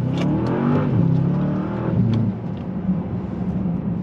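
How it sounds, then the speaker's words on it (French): A Bentley Continental GT Mulliner 2021 V8 engine in sport mode revs and accelerates with a deep, throaty roar, rising in pitch and then settling into a steady rumble close by. "en mode sport, t'entends le V8, donc celle-ci c'est un V8"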